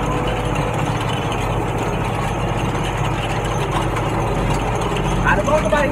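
A tractor engine runs steadily at close range during field harrowing on a farm, a continuous low rumble that holds even throughout, with a slight rise in the final second.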